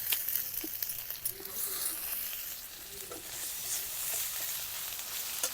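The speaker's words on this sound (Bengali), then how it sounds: "আদা রসুন বাটা দিয়ে ভালো করে কষিয়ে নিচ্ছি।" Ginger-garlic paste and crab fry in a hot pan, giving a loud, constant sizzle with soft stirring scrapes throughout and no other sounds over it.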